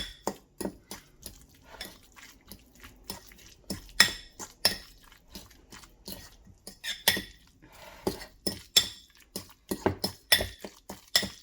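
A utensil clinks and scrapes against a bowl as guacamole ingredients are mixed, a quick irregular series of clattering knocks heard close up with no talk.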